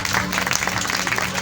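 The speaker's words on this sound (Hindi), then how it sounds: "जोरदार तालियां बजाएं।" Audience applause at a wedding ceremony in honor of a 5,000-rupee church donation, a steady dense clapping wash lasting the whole moment, with a voice audible over the crowd.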